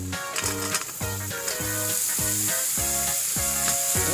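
Pointed gourd sizzling in hot oil with turmeric and salt, a loud, close frying hiss broken by a regular series of spoon scrapes or knocks against the pan, with no voices.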